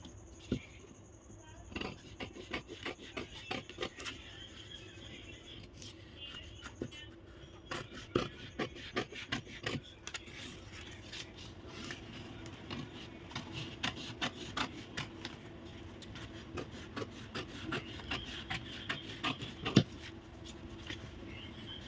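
Scissors cut through drafted blouse fabric in a one-tuck blouse cutting session, with repeated soft snipping and rasping strokes close by, steady over a low background.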